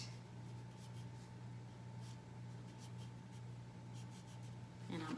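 A word is written by hand and then underlined, heard as faint, soft pen strokes on paper over a steady low background hum.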